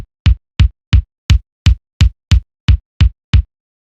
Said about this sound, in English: Let's create a high frequency cut. So we'll do high cut.